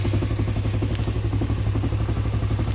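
Honda CB150R motorcycle engine running right after starting, a steady close, loud idle with a rhythmic, slightly clattering pulse and no talk.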